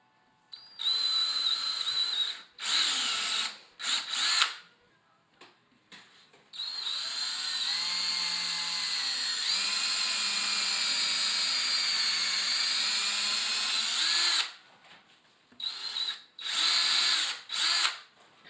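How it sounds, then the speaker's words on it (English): A power drill bores holes through a dishwasher cabinet panel in a kitchen, whining loudly in several short bursts and then one long sustained run of about eight seconds, followed by more brief stop-start bursts. "So I drilled through the backside of that"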